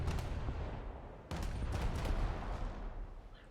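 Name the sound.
naval ship guns firing in War Thunder video game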